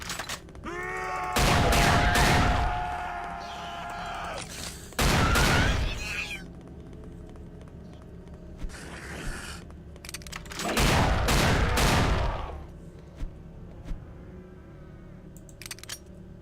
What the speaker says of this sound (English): There, I put the sentry gun down.